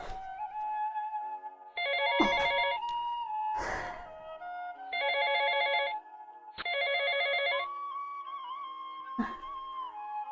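A phone rings in bursts of bright electronic trilling, four rings separated by short gaps, fairly close and clear in a quiet room, with faint sighs and breaths between them.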